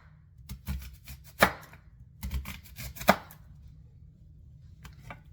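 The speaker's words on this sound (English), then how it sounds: "I'm gonna slice a few more pieces of onion to go on top of it" A kitchen knife slices through onion on a cutting board in two quick clusters of crisp cuts, with a couple of louder thuds, close and clear, then a few stray taps.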